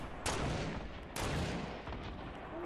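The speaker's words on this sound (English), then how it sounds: "I have 10 grenades, bro. I'm gonna just spam them." Fortnite Battle Royale grenade explosions go off as two heavy, booming blasts in quick succession, followed by a fainter third one, over continuous background game noise.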